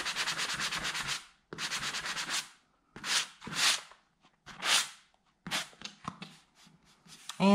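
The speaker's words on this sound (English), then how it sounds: "Now that we have sanded our holes and they are nice and smooth" Sandpaper rubbing over filled nail holes in a wooden baseboard: two long, steady scrubbing passes, then a series of shorter, quick strokes, close and fairly loud with brief pauses between them.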